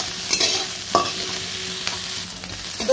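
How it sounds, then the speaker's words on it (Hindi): Onions frying in a pan for a besan curry, a steady close sizzle with occasional stirring scrapes and clicks throughout, no voices. "प्याज को हमें दो मिनट भून लेंगे"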